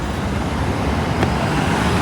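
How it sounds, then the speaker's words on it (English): Dense, steady roar of road traffic on the Champs-Élysées in Paris, eight lanes of cars, buses and trucks rumbling close by without a break. "So here we have our 8 lanes of traffic"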